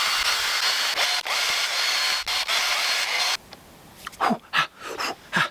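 Electric drill whirring steadily as it spins a grotty engine valve from a Golf GTI Mk2 cylinder head against an abrasive spongy cloth, a loud continuous run that stops, followed by a few short bursts.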